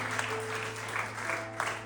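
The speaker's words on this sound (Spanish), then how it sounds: "¿Cuántos le pueden dar un aplauso al Señor Jesucristo?" A church congregation claps together in a short burst of steady applause during a Spanish-language sermon, with a low sustained hum of instruments or organ underneath.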